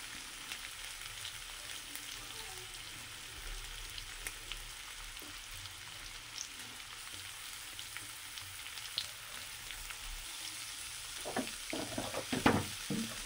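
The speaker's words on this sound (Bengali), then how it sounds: "গাজরটা একটু ভাজা ভাজা হয়ে গেলে বাকিগুলোকেও দিয়ে দিব, দিয়ে ভালো করে ভেজে নিই।" Carrots and other vegetables frying in a pan for home-style vegetable fried rice, a low steady sizzle with soft stirring scrapes that grow busier and louder near the end.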